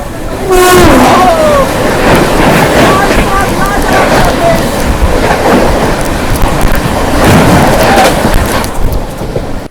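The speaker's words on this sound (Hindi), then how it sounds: "सामने से आ रही है 12310 नई दिल्ली राजेंद्र नगर कैप्टन तेजस राजधानी" The 12310 New Delhi–Rajendra Nagar Tejas Rajdhani Express rushes past at close range, a loud sustained roar with a horn blast at the start and heavy rumbling of the wagons continuing throughout.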